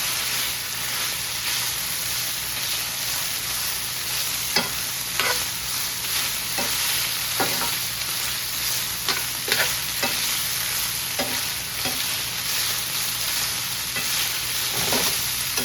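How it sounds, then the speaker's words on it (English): Steady, close sizzling of beef browning in a frying pan, with scattered scrapes and clicks of a utensil stirring along the edges. "let's give it a bit of a browning here. Move the meat along the edges"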